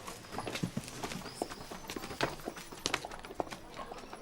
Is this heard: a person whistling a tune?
no